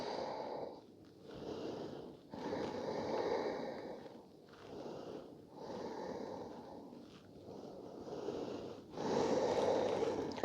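Steady in-and-out breathing during a yoga sun salutation sequence, several slow breath cycles each lasting one to two seconds, close and soft with no talking.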